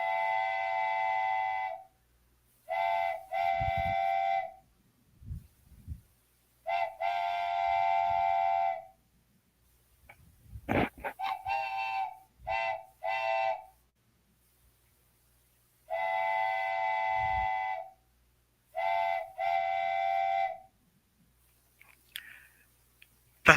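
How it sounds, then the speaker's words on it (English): A train horn sounds at a train station in repeated long, loud harmonic blasts with gaps between them, broken by a few short thumps and clatters. "That was the horn of the train, ladies and gentlemen."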